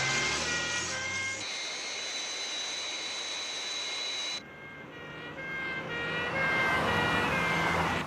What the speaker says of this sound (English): Crash tenders to center of runway 29.